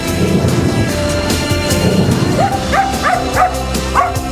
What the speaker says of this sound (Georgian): სოციალური ქსელის ვარსკვლავი მიუსაფარი ძაღლი ბათუმელი კუპატა ავადაა